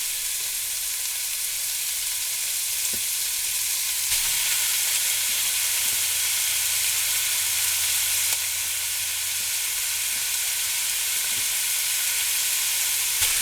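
Chunks of stew beef browning in oil in a pan, a steady close sizzle and crackle with faint stirring bumps, no voices.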